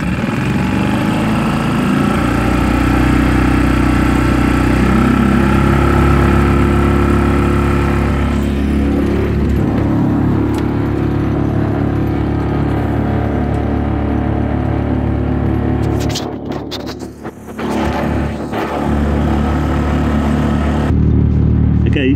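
A Tohatsu 6 hp long-shaft outboard motor on a 25-foot Fisher 25 boat runs at full throttle, making a loud, close, steady engine roar that dips briefly near the end before resuming.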